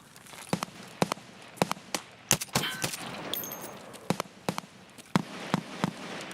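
Grenade blast and gunfire in the video game Escape from Tarkov, heard as scattered sharp bangs and cracks over several seconds, some close and punchy, others more distant, with a brief louder burst midway.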